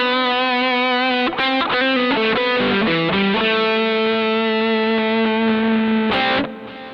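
A heavily distorted electric guitar through a Mooer GE100 80s distortion preset plays sustained notes and a few quick chord changes, thick and saturated, loud and upfront with no voices.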